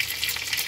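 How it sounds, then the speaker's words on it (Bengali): Eggs frying in mustard oil in a wok, a brief, steady bright sizzle with a constant crackling hiss and no voices. "ডিমগুলোকে ভেজে নেব আমি।"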